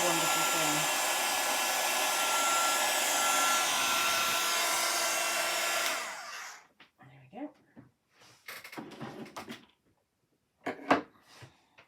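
An embossing heat tool blows a loud, steady whir for about six seconds, then cuts off; afterward only faint handling clatter and brief quiet sounds remain.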